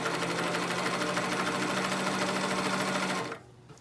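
A Highlead zigzag sewing machine stitches at roughly 4 millimetre width, a loud, fast, even mechanical chatter that runs for about three seconds before stopping abruptly.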